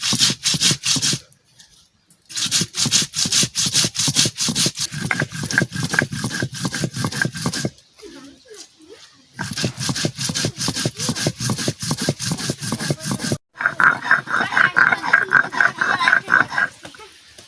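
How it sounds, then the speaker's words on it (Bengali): Cumin and coriander are ground together on a stone grinder, a close rhythmic rasping scrape in fast back-and-forth strokes. The strokes run in three long bouts separated by short pauses. "জিরে আমি একসাথে নিচ্ছি, একসাথে আমি বেটে নিচ্ছি।"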